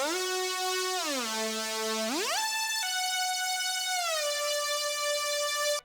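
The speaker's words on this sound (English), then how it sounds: "I then turned up the portamento time, which determines how long overlapping notes will take to glide from one to the other." A synth lead gliding smoothly between sustained notes with long portamento, treated with a glitch effect and reverb, bright and steady with no voice over it.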